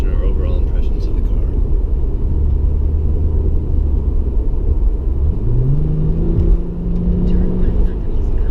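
A 2007 Acura TL drives along the road, heard from inside the cabin as a loud, steady low rumble of engine and tyres, with an engine tone rising near the end.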